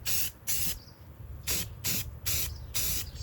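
Rusty metal primer sprayed from an aerosol can onto a Freightliner FLD120 truck seat base, heard as six short hissing bursts of spray at close range, evenly spaced with brief pauses between them, with no talking.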